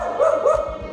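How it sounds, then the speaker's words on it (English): A dog barking in the middle of the night, recorded on a phone: two quick close barks with a slightly whiny tone, with no one talking. "It's a video of his dog barking at absolutely nothing in the middle of the night."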